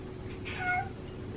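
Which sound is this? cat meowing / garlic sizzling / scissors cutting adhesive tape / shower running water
cat meowing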